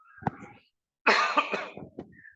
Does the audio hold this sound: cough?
yes